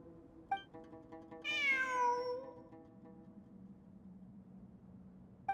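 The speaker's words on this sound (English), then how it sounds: "It really is a cat." A single clear, drawn-out cat meow with a falling pitch in the video game Genshin Impact, heard alone in a quiet space, with faint clicks before and after.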